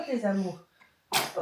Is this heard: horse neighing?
no